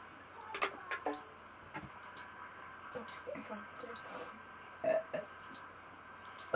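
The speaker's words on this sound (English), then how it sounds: "Girls are burping on camera." Girls trade short, throaty burps during a burping contest, scattered among chatter and small clicks in a quiet room, with a louder burst near the end.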